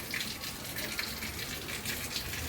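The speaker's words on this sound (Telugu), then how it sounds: "నీళ్ళు ఎక్కువ ఏం వస్తలే. ఎంత నీళ్ళు వస్తుందా?" Garden tap or hose running steadily, a continuous hissing water flow that stays at an even level throughout with no voices.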